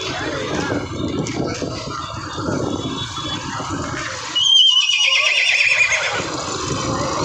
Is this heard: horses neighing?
yes